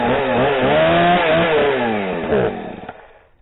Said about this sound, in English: I got my chainsaw. Yeah. Gonna fire this up one more time.